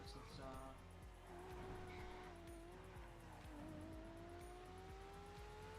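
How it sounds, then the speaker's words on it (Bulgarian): A Porsche engine in a racing video game drones continuously, its pitch rising and dipping with gear changes, while tires squeal and a rhythmic mechanical pulse runs underneath. "Това е може би Поршето с най-хубав звук от всички."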